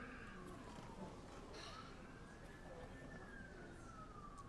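A police siren in the city of the NBA 2K21 basketball game wails slowly up and down, faint and distant beneath a steady wash of background noise.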